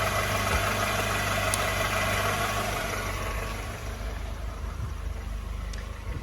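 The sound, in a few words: Mercedes 220CE W124 coupe engine idling roughly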